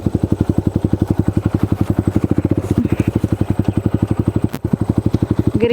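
Motorcycle engine running at a steady rapid beat during a practice session at a compound in Patag, Cagayan de Oro, loud and close throughout, with a brief dip near the end and no talk over it.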